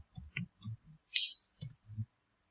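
Keys tap on a computer keyboard at a Linux terminal: a short burst of quick, close clicks, a brief pause and a hiss, then a few more taps, all crisp and isolated with no talk.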